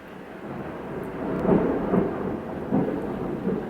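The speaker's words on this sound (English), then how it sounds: "That thunder had a lot of bass to it." Deep, bass-heavy thunder rumbles through a thunderstorm, rolling in several swells over a few seconds with a faint hiss of rain beneath it.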